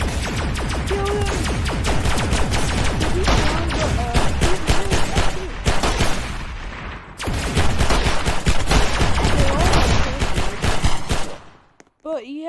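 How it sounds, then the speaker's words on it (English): Rapid, dense bursts of gunfire from a weapon in the game Roblox crackle almost nonstop for about eleven seconds, with a voice talking over the shooting before it cuts off near the end. "This thing shoots like a bunch of bullets at once."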